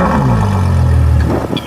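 A Ferrari Lusso V12 fires up nearby in New Zealand with a deep, throaty roar that swells and then settles lower, ending with a few sharp clicks.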